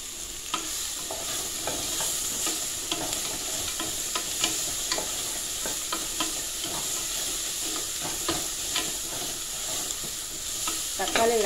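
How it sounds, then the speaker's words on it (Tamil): Tomatoes sauté in a pan with a little salt for white biryani, a steady sizzle and fry with frequent scraping stir clicks throughout, no talking. "தக்காளி மட்டும் போட்டு வதக்கலாம்."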